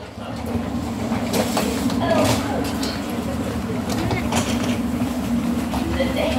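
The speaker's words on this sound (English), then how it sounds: "Hopefully that noise is not our train." An underground train approaching a station platform gives a steady low rumble and rattling clatter with faint squeals, loud and continuous, while people talk over it.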